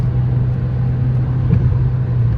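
A Fiat Linea's engine drones at about 3000 rpm while cruising at 100 km/h, a low even hum with road rumble underneath, no change in pitch throughout.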